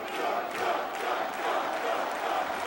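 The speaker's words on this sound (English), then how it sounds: "Capacity crowd on hand, loving it." A capacity crowd roars steadily inside a 1985 WWF wrestling arena, a dense, unbroken wall of cheering and shouting that stays loud and close throughout.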